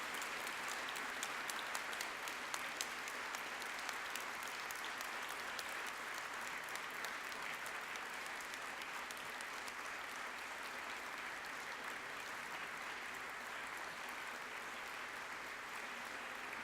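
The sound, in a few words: graduates applauding at graduation ceremony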